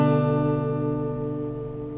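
A B-shape minor 7th chord strummed once in open position on guitar rings out and slowly decays, sustained harmonic tones with no talk.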